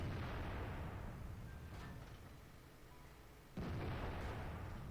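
A tank gun fires twice in World of Tanks, a sharp, heavy boom at the start and another a few seconds later, each followed by a rumbling decay, fairly quiet overall and with no talking.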